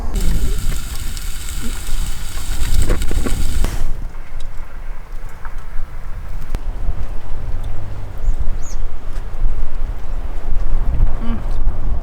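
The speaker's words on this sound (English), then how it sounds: "It's a real struggle trying to cook in the wind." Strong wind gusts roar and buffet the microphone at an outdoor cooking spot among Oregon sand dunes, a steady rough rush filling the whole stretch, heaviest early on and easing slightly after a few seconds.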